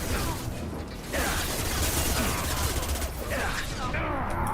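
Rapid gunfire crackles in the video game Mass Effect 2, dense mechanical bursts of shots that briefly drop out before resuming, loud and continuous.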